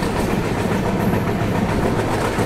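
A Delhi–Lucknow double decker train, number 12584, rolls slowly along the tracks, a steady loud rumble with low rhythmic clatter heard from inside the coach.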